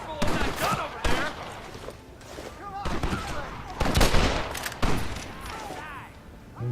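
Gatling gun fire in Red Dead Redemption, rapid bursts of clattering shots in several loud volleys with short pauses between them, mixed with other battle noise.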